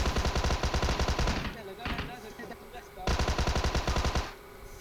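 Thompson submachine gun firing in a shooter video game, with rapid automatic bursts, a brief lull, then another sustained burst, loud and close over a faint game background.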